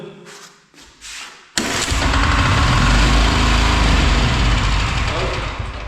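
A Bolat 7 hp diesel tiller engine catching after a recoil pull, a brief rattle of the starter followed by a sudden loud, steady diesel clatter and rumble up close, with someone speaking over it.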